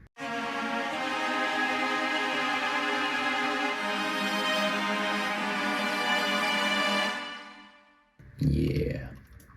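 Orchestral strings entering in a pop-style music arrangement: a rich, sustained, harmonically dense string passage played steadily for several seconds, then fading out, followed by a brief burst of talking.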